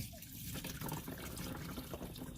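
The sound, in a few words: coolant pouring out of car engine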